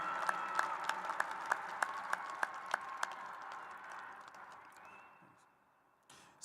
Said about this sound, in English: Please applaud these students for their commitment to serve in our country.